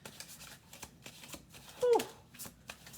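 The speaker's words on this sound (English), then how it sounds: "Let's do 1 more shuffle." Tarot cards are shuffled by hand in a quiet room, a series of soft riffling flutters and light slaps recurring at a steady pace, fairly close and low in level, with a brief vocal murmur partway through.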